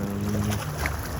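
An older outboard deck boat with a Mercury 150 outboard engine runs out on the water, a steady low motor drone with wind noise and water wash around it.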